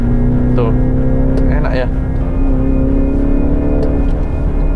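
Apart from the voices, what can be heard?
Mini Countryman car accelerating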